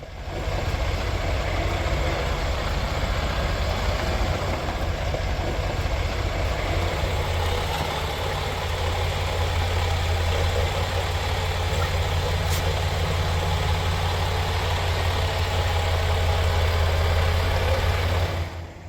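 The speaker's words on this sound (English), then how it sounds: "Then the truck is adjusted so the trailer is aligned with the rails." A truck engine idles steadily with a deep, continuous rumble while its trailer is lined up with rails during the moving of a 150-year-old narrow gauge steam locomotive; the sound is loud and close, with no talk.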